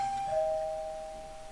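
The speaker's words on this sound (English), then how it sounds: "That was my doorbell." A single electronic doorbell chime rings out clearly, a sustained bright tone that slowly fades.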